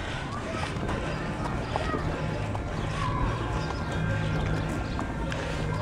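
Horses clip-clopping as people ride them at a Maslenitsa festival, with hoofbeats tapping irregularly over a busy outdoor crowd murmur and people chatting nearby.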